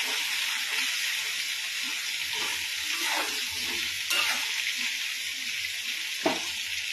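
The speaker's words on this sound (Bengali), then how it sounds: "কই মাছের ঝোলের জন্য আলু আর কাঁচকলা ভেজে নিচ্ছি।" Potatoes and raw green banana fry in hot oil seasoned with bay leaf and cumin, for a koi fish curry. A steady, close sizzle runs throughout, with occasional soft stirring taps and no voices.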